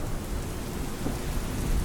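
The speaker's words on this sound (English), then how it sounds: "accompanied by rain and thunder" Steady heavy rain with rolling thunder forms a dense, continuous wash throughout, with a low rumble underneath and no voices.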